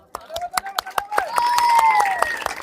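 Spectators at a village girls' rope-skipping game clap in quick, uneven bursts, and a voice speaks over the applause.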